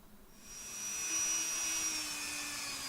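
A Dremel rotary tool grinds a channel into the edge of an acrylic sheet, its high whine swelling up within half a second and then holding steady and close.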